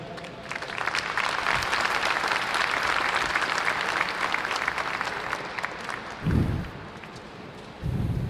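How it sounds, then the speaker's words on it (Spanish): Audience applause at a national potato congress session on sustainability and regenerative agriculture in Mexico, a dense sustained clapping that runs steadily for several seconds before thinning out, with brief low thumps near the end. "Fuerte el aplauso, por favor."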